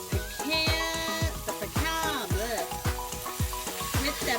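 Pecan, vinegar and syrup mixture sizzling and bubbling in a hot pan, with stirring and crackling bursts close up, no voices.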